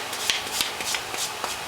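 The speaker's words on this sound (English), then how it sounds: "we're just draw filing. We're using a second cut, a coarse file." A coarse second-cut file is drawn along a metal edge in a series of scraping strokes, roughly five or six rasping passes in quick rhythm, close and moderately loud. No voices are heard.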